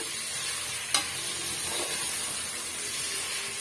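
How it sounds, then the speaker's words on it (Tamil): Tomatoes frying with ginger garlic paste in a pan for chicken biryani, a continuous close sizzle with a brief clink of a utensil and some stirring, no talk. "இஞ்சி பூண்டு பேஸ்ட் வந்து நல்லாவே வதங்கி வந்துடுச்சு இப்போ நம்ம தக்காளி பழம் வந்து சேர்த்துக்கலாம்"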